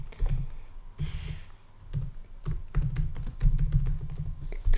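Typing an address on a computer keyboard, with quick clusters of close, crisp key taps in uneven bursts and short pauses between them, over a low background hum.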